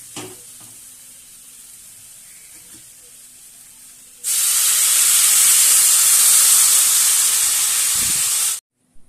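Shol fish dropped into hot oil, a quiet stretch with small knocks, then a sudden loud, bright, continuous sizzle for about four seconds that stops abruptly.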